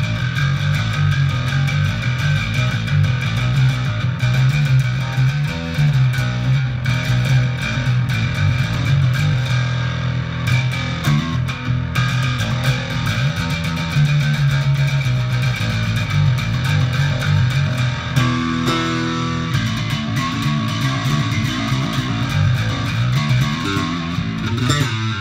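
A distorted electric guitar through a Line 6 Helix LT effects unit plays a sustained, gritty riff with ringing chords, steady and loud throughout, with no talking.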